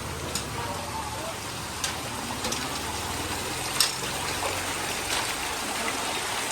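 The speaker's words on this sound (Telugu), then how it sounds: "చెర్లకెళ్ళి వచ్చే నీళ్ళు ఇవన్నీ" Water from a lake near Gandipet, Hyderabad flows steadily outdoors in a constant rushing wash, with a few faint clicks and knocks on top.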